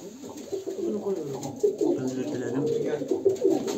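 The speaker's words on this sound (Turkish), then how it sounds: "Toplamda 13 tane kuş oldu." Pigeons or doves coo steadily and continuously, close by, in a small flock of about thirteen birds, with soft background noise and no talk.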